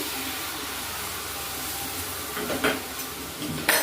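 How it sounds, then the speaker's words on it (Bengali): Warm water is poured into a pan of broccoli cooking in a village kitchen, bringing a steady hiss and sizzle that swells into brief louder bursts near the end, close and moderately quiet. "আর এখানে একটু গরম জল, উষ্ণ গরম জল দিয়ে দিচ্ছি।"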